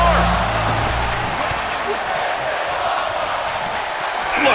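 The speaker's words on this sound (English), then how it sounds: "Just listen to the crowd." Arena crowd in the WWE 2K23 wrestling video game during an Elimination Chamber match roars and cheers in a steady, dense wall of noise, with a commentator's voice running underneath.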